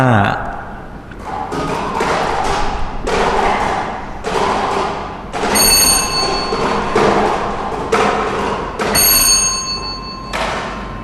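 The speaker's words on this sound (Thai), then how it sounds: "ต่อไปขอให้พนักงานออกเลขรางวัลหมุนอุปกรณ์เลขเสียงประจำหลักเป็นครั้งที่5" Repeated heavy clattering thumps of a Lao lottery draw drum tumbling numbered balls, with occasional bell-like ringing tones, loud and close.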